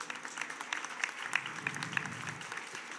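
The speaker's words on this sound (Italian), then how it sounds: "salutiamo con un applauso, a Pilar del Rio Saramago" An audience at a literary event applauds with steady, moderately distant clapping that continues evenly throughout, with no speech over it.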